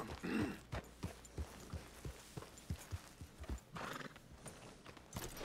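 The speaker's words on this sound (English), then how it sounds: "let me just mount my horse real quick" Horse in Red Dead Redemption 2 snorts and whinnies at the start, then hooves clip-clop in a steady walking rhythm, close and fairly loud, with a second whinny near the end.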